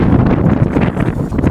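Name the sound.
wind blowing into the microphone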